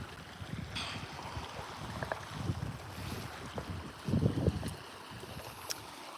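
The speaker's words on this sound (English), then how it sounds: "It's very nice to be parked right next to a little creek. I just love the sound of water." Gentle, continuous trickle of a small creek running beside a parked off-road pickup motor home, with soft wind buffeting and a few louder splashing swells; no voices.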